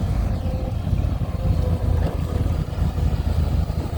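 A long-front Komatsu PC200-7 excavator works in mud, its steady low diesel rumble and hydraulic drone running throughout, loud and close, with light wind buffeting and no talking.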